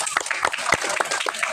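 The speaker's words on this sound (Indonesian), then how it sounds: "Tepuk tangan buat untuk panitia." Brief audience applause for the organising committee at the opening of a neighbourhood Quran recitation competition (MTQ), with quick claps mixed with voices in the crowd.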